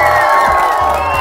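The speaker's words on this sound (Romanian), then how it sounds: "vreau să auzim mega multe aplauze pentru concurenții noștri" A studio audience at a trappers-versus-kickboxers quiz show cheers and applauds for the contestants in a loud, dense burst of crowd noise and whoops that lasts just over a second.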